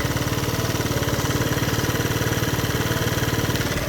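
A Lance Cabo scooter engine idling steadily, a close, even, rapid putter with constant vibration and no pauses, fairly loud throughout.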